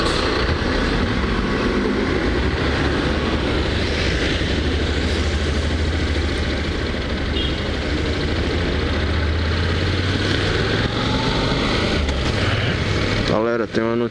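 A Honda NC700 motorcycle on the streets of Maceió, its engine a deep, steady idling rumble heard up close with wind noise and faint voices, ending in a brief higher sound.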